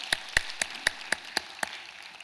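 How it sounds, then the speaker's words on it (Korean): A church congregation applauds after a prayer of thanks: several sharp, separate claps spaced about a quarter second apart, fairly faint and steady, with no talk. "영광의 박수를 한번 올려드리겠습니다"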